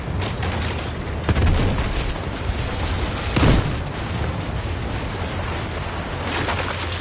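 Armored tank crashing through destructible buildings in the video game Battlefield 6, a steady rumbling roar punctuated by a couple of heavier booming impacts of collapsing structures, loud and close, with no talk.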